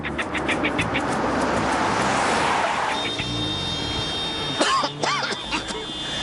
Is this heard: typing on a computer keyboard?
no